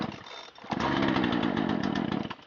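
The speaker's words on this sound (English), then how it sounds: "Random chainsaw in the woods." A chainsaw found in the woods starts with a short sputter, then revs into a loud, steady buzzing whine that holds for about two seconds before dropping off.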